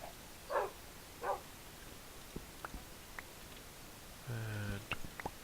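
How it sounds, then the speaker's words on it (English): Minecraft dogs from the FTB modpack yapping in short separate bursts, a few quick barks followed by clicking game sounds and a low tone, faint and distant. "yeah, the dogs do get in the way a little bit"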